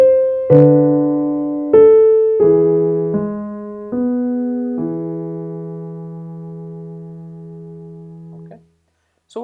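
Solo piano plays "Merry-Go-Round of Life" from Howl's Moving Castle as an easy arrangement, with clear sustained chords struck one after another and ringing out before fading to silence.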